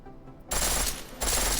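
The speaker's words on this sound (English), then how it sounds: "Full auto fire pattern." Automatic weapon fire in the Deus Ex Mankind Divided shooter, a loud, dense full-auto burst that breaks briefly and then resumes, heard alone and close.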